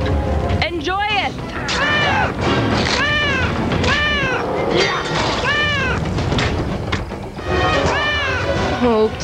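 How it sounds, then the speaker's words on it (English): A kitten meows repeatedly in a gory Gladiator video game cutscene, a run of clear, rising-falling mews close up, while other voices and background noise sit underneath. "I like how its meows almost drowned out the death screams."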